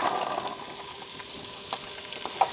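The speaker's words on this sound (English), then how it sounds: "We just need to saute these for 5 minutes." Onions, carrots and celery sauté in a hot pan, giving a steady soft sizzle throughout with a few faint stirring clicks and small pops near the end.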